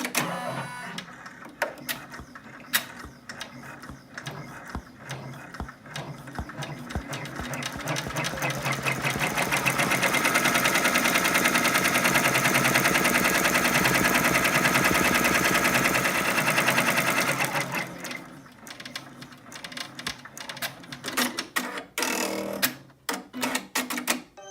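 An embroidery machine stitches the first outline of an oversize felt angel design, a steady rapid mechanical chatter that builds and holds loud for several seconds before slowing into scattered clicks and taps.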